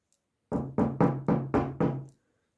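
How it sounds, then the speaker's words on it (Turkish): Five firm knocks on a door in a steady, even rhythm, close and loud, followed by silence. "hemen kapıya vurur"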